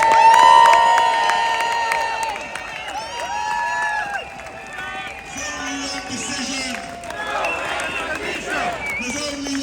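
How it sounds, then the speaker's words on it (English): Crowd outside a London court during a protest hearing, voices cheering, whooping and shouting at a distance, with some applause and a voice talking over the noise. "Please give them a huge round of applause."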